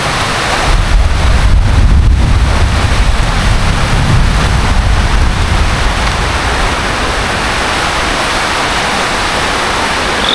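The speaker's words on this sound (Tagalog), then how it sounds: "Promise guys, may gumanong hangin." Strong wind roars steadily and loudly across the microphone, a dense rushing noise with heavy low buffeting that eases slightly later on.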